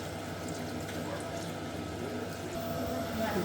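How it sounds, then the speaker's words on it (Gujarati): Water pours steadily into a cooking pot of cluster beans on a gas stove, a faint, continuous splashing flow with no clear break. "બીજું અડધું કસેલું નાખી દઈએ પાણી."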